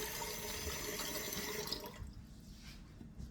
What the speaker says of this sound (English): Get some cold water in your pan